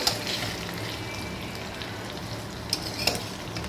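Fish roe frying in ghee in a pan as it is turned over, giving a steady close sizzle throughout, with a couple of light utensil clinks near the end.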